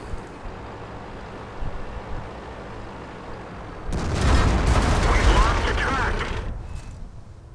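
A rapid burst of tank gun fire in World of Tanks at the Prokhorovka map, several heavy booming shots overlapping in quick succession after a stretch of low background rumble.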